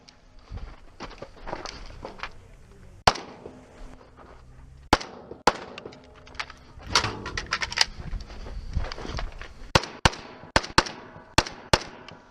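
Kalashnikov rifle shots at a shooting competition stage ring out as sharp, loud single cracks and quick double taps, spaced irregularly among shuffling movement and clatter.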